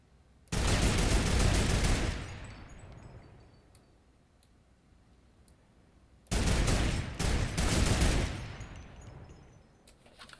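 Fortnite gunfire rips out in two loud bursts of rapid shots, each lasting a second or two, separated by a quieter stretch with faint clicks.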